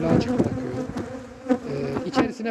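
Honeybees buzzing densely at a hive, a close, continuous droning hum with wavering pitch and occasional louder swells as individual bees pass near.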